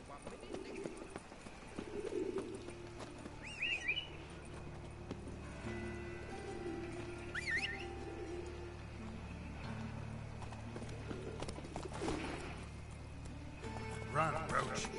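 Roach the horse from the game Witcher 3 gallops with steady, faint clip-clop hoofbeats beneath a low ambient bed and game sounds, while someone talks over it.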